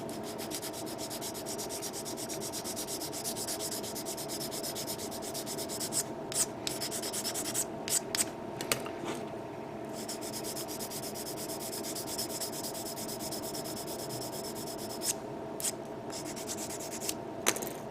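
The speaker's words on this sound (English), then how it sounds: "this is a lot of leftover sanding" Steady, continuous rubbing of sandpaper against a small hard plastic part of a 1/72 scale Bandai model kit, a close dry scratching that runs throughout with a few brief pauses and louder strokes.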